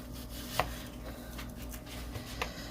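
A knife cuts through an onion for shakshuka, giving a couple of faint, close cutting clicks over a quiet background with no talk.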